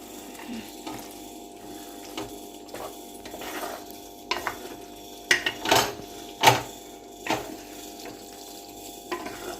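A lime pickle mixture with asafoetida is stirred in a pan: soft, steady scraping with a few sharper clinks and scrapes near the end, and no talking.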